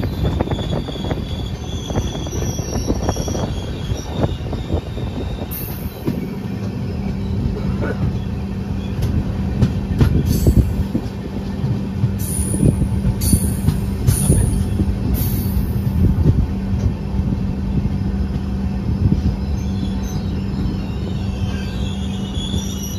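Howrah-Digha Tamralipta Express rolling slowly, with steady rumble of wheels on rails, rhythmic clatter and intermittent high-pitched wheel squeal, plus a sustained low hum; continuous and near throughout, with no talk.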